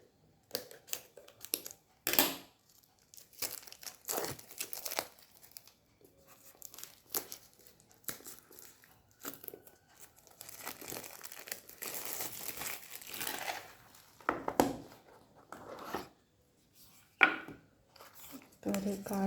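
Crinkly wrapping on a tiger eye Leo bracelet package is torn and rustled up close during unboxing, in irregular bursts of crackling that start and stop across the stretch.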